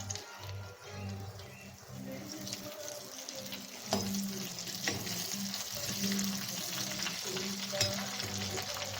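Curry leaves crackle and sizzle in hot oil for a Kerala-style mango curry, a steady close frying hiss with occasional sharper pops and light stirring, while low background hum sits beneath and no one speaks.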